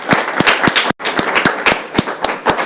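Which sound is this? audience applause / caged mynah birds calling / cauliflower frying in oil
audience applause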